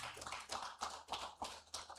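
Applause from a symposium audience, a burst of quick hand claps with rhythmic peaks, moderately close and somewhat thin, suggesting a modest crowd.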